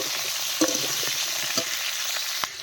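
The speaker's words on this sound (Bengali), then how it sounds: "আলুগুলোকে এবার ভেজে নিই" Unpeeled whole potato pieces frying in hot oil, a constant loud sizzle with a few sharp clinks of a utensil stirring them.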